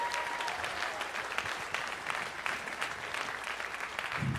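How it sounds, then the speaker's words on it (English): Audience in a school chapel clapping for a performer, a steady, close wash of applause lasting several seconds with a few cheers mixed in. "Can I get another round of applause"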